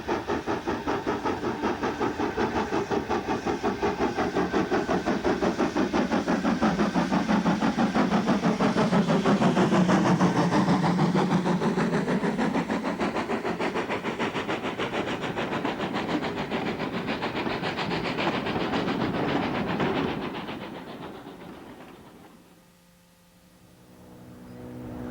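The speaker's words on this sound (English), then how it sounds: "Dora took the Mark I passenger stock to Yarwell" Steam locomotive Dora hauling Mark I passenger coaches, a steady loud rumble with rhythmic chuffing and rolling wheels that holds for about twenty seconds and then fades away.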